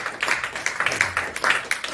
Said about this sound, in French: on va l'accompagner avec des applaudissements